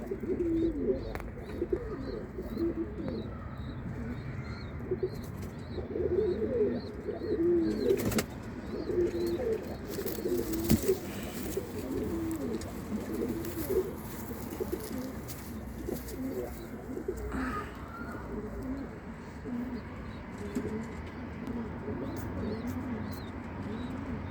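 Domestic pigeons coo softly in a steady, repeating rhythm close to the microphone, with a few sharper sounds and faint chirps now and then.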